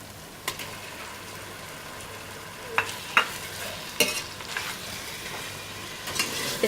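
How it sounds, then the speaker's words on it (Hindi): Minced meat fries with white cumin in a pan, a constant close sizzle marked by several sharp spatula scrapes and taps as it is stirred. "अब इसमें ये कीमा डालेंगे।"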